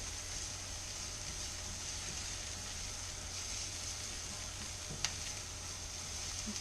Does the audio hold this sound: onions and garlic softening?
yes